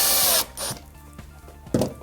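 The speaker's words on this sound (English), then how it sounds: "then 2 screws driven all the way down so it holds it nice and tight." Power drill driving screws into pallet timber for a coffee table, a short burst of high whirring followed by quieter knocks and scraping, then a second brief thud of the drill at the end.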